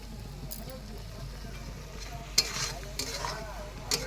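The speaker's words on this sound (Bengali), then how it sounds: "এটাকে ভালো করে কষিয়ে নেব" Spices for a fish curry sautéed in a pan, with soft sizzling and several scraping stirs of a spatula, a few sharper clinks standing out, quiet and close.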